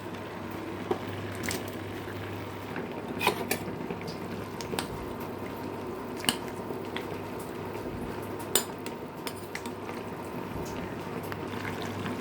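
Jackfruit curry simmers in a cooking pot, a steady low bubbling bed with occasional sharp clinks of metal utensils against the pot, close and continuous, with no talking.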